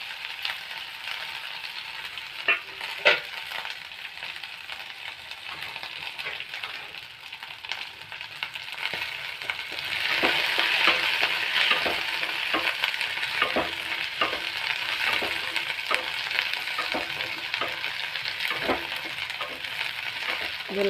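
Ivy gourd pieces fry in hot oil already tempered with mustard seeds and dried red chillies, a steady crackling sizzle with occasional sharp scrapes and clacks of a spoon stirring the pan. The sizzle swells louder midway, and nobody speaks.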